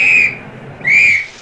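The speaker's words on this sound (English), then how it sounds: "She has a whistle for the taxi." Two sharp, high-pitched whistle blasts for hailing a taxi in a film, each held for about half a second with a short gap between, loud and close over faint background noise.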